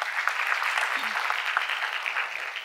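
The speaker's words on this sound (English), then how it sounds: "But give them a big round of applause." An audience applauds, a steady wash of many hands clapping at moderate loudness for a couple of seconds, with no voice over it.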